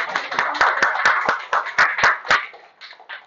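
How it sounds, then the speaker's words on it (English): Applause from a small audience in a sales seminar room, a run of fairly loud, close claps in an uneven rhythm that thins to a few scattered claps before fading. "Could we give her applause?"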